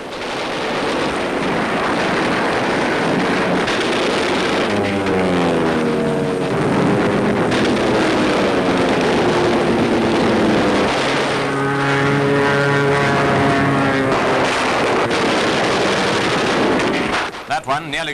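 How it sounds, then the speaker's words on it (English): Japanese kamikaze planes diving on US Navy ships in WWII combat film, with a continuous roar of aircraft engines, falling and rising whines, and bursts of anti-aircraft gunfire throughout. "the United States Navy has released films of kamikaze pilots in action"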